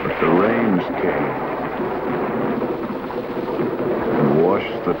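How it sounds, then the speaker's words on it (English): Rain pours steadily with rolling thunder rumbling through a stormy night, a continuous dense wash of sound with swelling tonal sweeps near the start and end suggesting music layered over the storm. "But the rains came"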